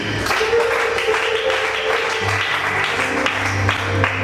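A church congregation applauds as one: a steady, dense wash of clapping from many hands that holds at an even level throughout, with no talking over it.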